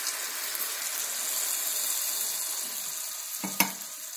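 Hot water is poured onto pumpkin and potato frying in a pan, producing a close, steady sizzle with a sharp burst of hissing and clatter near the end.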